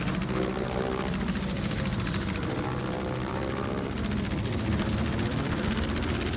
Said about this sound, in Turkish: Arkamdan uçak takip ediyor beni.